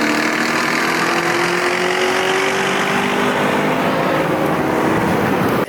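A 400 hp VW GTI fitted with an IS38 turbo pulls hard under sustained acceleration, a continuous loud engine note rising steadily in pitch through the revs with no talk over it.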